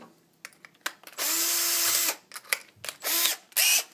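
Power drill fitted with a larger bit, whirring in several loud bursts of about half a second to a second, with clicks and handling noises between them, close up and without talk.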